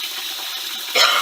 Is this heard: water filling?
yes